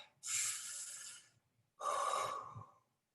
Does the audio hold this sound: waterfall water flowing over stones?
no